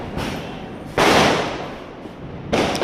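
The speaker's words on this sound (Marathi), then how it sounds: "आम्ही आलोय खाली फटाके उडवायला." Firecrackers set off outdoors during Diwali Lakshmi Puja celebrations, with two or three sharp, loud bursts, each a sudden crack that fades into a lingering rumble.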